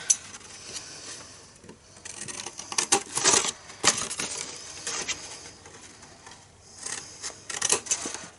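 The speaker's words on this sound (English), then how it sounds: "Just cut straight up to the score line like that." Scissors snip through patterned designer paper up to a score line, a string of crisp close cuts and paper rustles in short irregular bursts with pauses between them.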